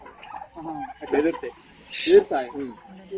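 Turkeys on a poultry farm in Chalmada give gobbling, clucking calls in a loose series of bursts, fairly close, with a louder cluster near the end and faint voices mixed in.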